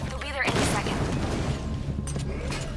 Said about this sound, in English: Okay, the cannon takes a while to reload.